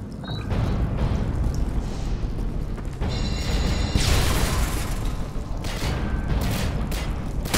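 A grenade blast in Call of Duty: Modern Warfare 2 during a locker-room firefight: a dense, sustained rumble of explosive booms and debris, loud and close, with a sharper burst around the middle and no clear talk.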